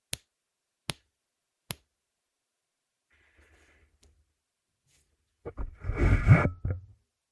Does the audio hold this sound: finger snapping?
yes